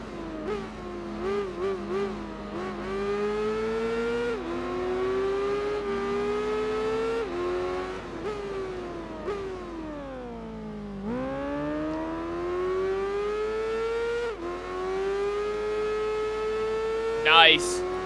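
An Aprilia motorcycle in the Tourist Trophy racing game holds a steady, loud, buzzing engine note that climbs and dips through gear changes, rising sharply after a brief drop, with a short squeal near the end.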